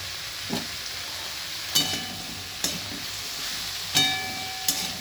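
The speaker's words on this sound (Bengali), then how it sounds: "দেখো আমি আবার ভাজা ভাজা ভালো করে করছি।" Cauliflower and potato fry in a pan with turmeric and salt under a constant soft sizzle, while a spatula scrapes and clinks against the metal about five times at uneven intervals, with no talk.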